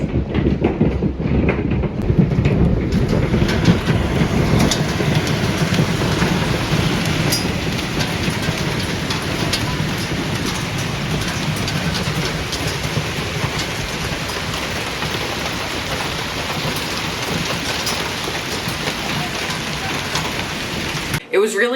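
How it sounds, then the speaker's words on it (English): Ping-pong-ball-sized hail pelts down outside in a dense, relentless roar of impacts that continues without letup. "there was this crazy hailstorm going on outside"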